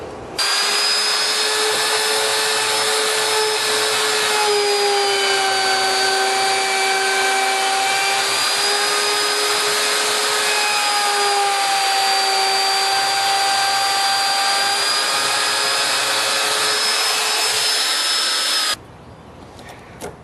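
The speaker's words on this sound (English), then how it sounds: "We get our router." A power router whines loudly and steadily as it cuts a latch recess into a door, a sustained high-pitched motor tone with slight pitch shifts as it bites the wood, running close for nearly twenty seconds before stopping abruptly.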